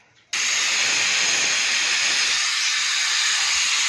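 A pressure cooker whistle going off as potatoes cook on a home stove, a sudden loud, steady hiss of escaping steam that continues unbroken, with no talking.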